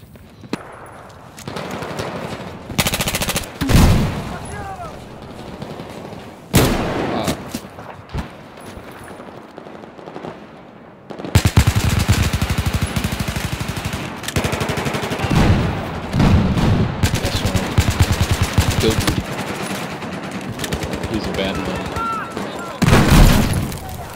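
Video-game gunfire loud and close: sustained automatic bursts and rapid shots in repeated volleys separated by brief lulls, with a voice talking over parts of the action.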